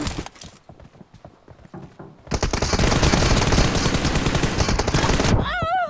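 PUBG Mobile gunfire: a few scattered shots, then a dense, loud burst of rapid automatic fire lasting about three seconds, ending with a short warbling game tone.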